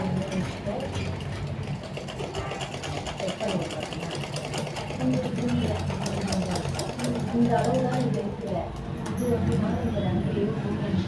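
A sewing machine runs steadily while stitching a model neck piece onto a blouse, its continuous motor whir and needle clatter close and loud throughout, with a voice talking over it.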